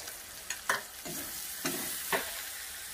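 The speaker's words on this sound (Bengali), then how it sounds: "সাইড থেকে তেলটা ছেড়ে গেছে, আমার মশলাটা কষা হয়ে গেছে" Spice masala with melted tomato, turmeric and chili powder is stir-fried in oil in a pan, giving a soft low sizzle broken by several spatula scrapes in an uneven rhythm, quiet and close.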